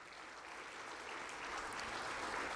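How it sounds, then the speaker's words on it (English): Audience applause welcoming the chief guest at a memorial lecture, a soft, distant, steady rush of clapping that builds slightly toward the end. "with a huge round of applause"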